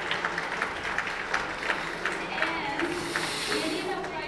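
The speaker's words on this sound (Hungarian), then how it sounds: "Kérem, nagy tapsot adjunk Raimunda, Dominik" An audience at an awards ceremony in Budapest applauds, a dense, steady patter of many hands clapping at moderate distance, with a voice heard faintly in the mix.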